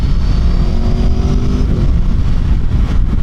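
An Aprilia Tuono V4 motorcycle accelerates with a loud, close, continuous engine roar. The pitch climbs steadily while the wind rushes past.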